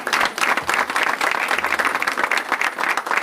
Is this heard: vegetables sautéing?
no